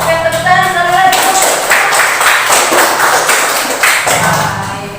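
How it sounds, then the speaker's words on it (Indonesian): A few held musical notes give way to a crowd clapping at a ceremony in Indonesia, a dense burst of applause that carries on for several seconds. "tepuk tangan sekali lagi"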